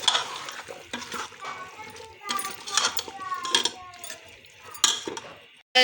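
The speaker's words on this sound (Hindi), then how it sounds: "अब हम इसमें घिया शामिल कर देते हैं। थोड़ा सा इसको अच्छी तरह फ्राई करेंगे।" Sizzling frying of meat with bottle gourd, with repeated scraping and stirring clatters of a utensil against a pan, irregular strokes close up.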